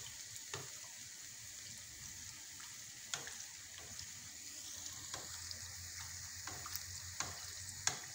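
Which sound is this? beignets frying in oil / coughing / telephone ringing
beignets frying in oil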